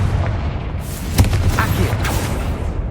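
Confringo spell explosion in Hogwarts Legacy, a loud booming blast with a sharp crack near the middle and a rumbling, crackling tail that fills the short span.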